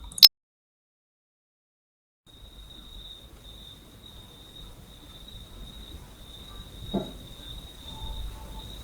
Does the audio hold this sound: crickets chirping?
yes